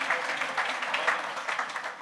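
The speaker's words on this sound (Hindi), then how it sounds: "मुबारक सिद्दीकी साहब के लिए भरपूर तालियां।" Audience at a London mushaira claps for a poet, a moderate, fairly even patter of hands heard from a short distance.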